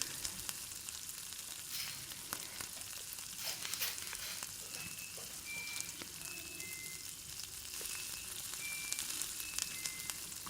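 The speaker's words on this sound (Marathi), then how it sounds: "आता इथं आपल्या तिखट आणि मसाला दोन्ही पण व्यवस्थित भाजून झालेला आहे" Red chili powder and masala roast in a pan for Kolhapuri misal, a soft, even sizzle that stays faint and steady throughout, with no talk.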